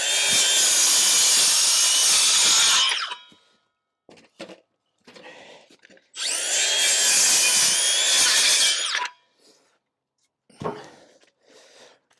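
A saw cuts timber for a garden room build in two long sawing passes of about three seconds each, loud and close. Knocks and handling clatter of wood and tools fill the short gaps between them.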